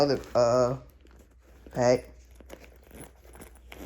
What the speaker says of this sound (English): And then unzip the other pack